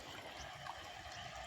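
Water running from a motor pump on a farm, a faint steady trickling stream that flows continuously with no voices.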